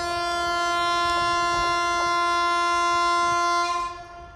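The 07664 Jalna–Parbhani Festival Special passenger train departs Sarwadi railway station in India, its long, loud horn blaring steadily for about four seconds before fading out.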